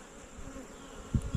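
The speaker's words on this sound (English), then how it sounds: "That way you can open them up and not worry about the bees flying at you" Honey bees buzz steadily around an opened hive, a low continuous hum with a couple of louder close passes near the end and no talking.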